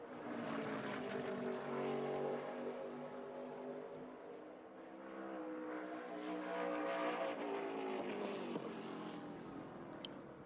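A NASCAR Craftsman Truck Series race truck at Bristol, its engine rising and falling in pitch as it passes, loud and close with a second swell later, alone without voices.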